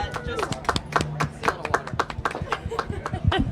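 Several people clap in a quick, uneven burst, with scattered laughter and chatter mixed in.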